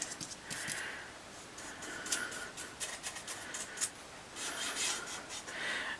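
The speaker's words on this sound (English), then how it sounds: "just rub this along. So you can see here I'm just going along the edge" Paint being rubbed by hand along the edge of a prop machete blade: faint, dry rasping strokes in short repeated bursts, quiet and close, with no talking.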